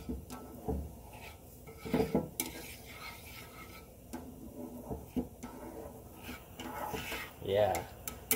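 Eggs are whisked and stirred in a pan to break up the yolks, with light scraping and tapping of a utensil against the pan in uneven bursts, fairly quiet and close.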